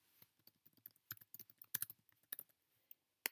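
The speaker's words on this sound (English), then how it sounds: "you'll type a title for your blog" Rapid, uneven keystrokes on a computer keyboard while a blog title is typed, close and clear, a run of separate taps with short pauses and a few louder clacks.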